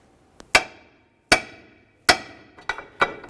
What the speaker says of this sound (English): I'm going to give this a couple loving bonks to cause some vibration